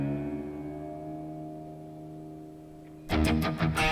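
A sustained droning electric guitar tuned to drop D rings out, then heavily distorted low chords strike loudly in a short choppy burst near the end.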